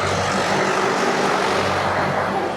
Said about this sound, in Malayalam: മേ ട്രാക്ടറടാ.